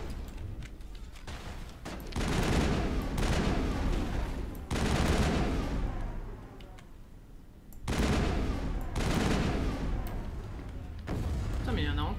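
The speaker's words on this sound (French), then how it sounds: "Pourquoi j'essaie de tirer avec mon fusil à pompe?" Shotgun blasts and gunfire in Mass Effect come in several heavy bursts with pauses between them, loud and booming, and a voice can be heard talking among them.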